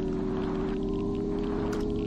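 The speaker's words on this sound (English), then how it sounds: "they've changed the sound of the motorcycle" Motorcycle engine in the video game Empyrion, a steady droning hum with a strong constant tone and a low rumbling undertone that holds evenly throughout with no pauses, loud and close, with no speech over it.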